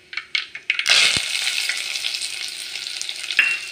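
About 25 chopped small onions and curry leaves are dropped into hot oil for brinjal thokku: a few light clinks, then a sudden loud sizzle that keeps crackling steadily.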